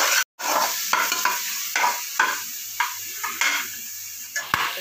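Tomato and onion sautéing in a pan for mutton biryani, with repeated scraping stirs of a spoon over a soft sizzle, each stroke a distinct close scrape.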